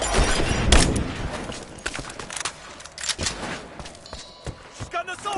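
Assault rifle gunfire in Rise of the Tomb Raider rattles in sharp, close bursts and scattered single shots amid combat noise, with enemy voices shouting over the fight.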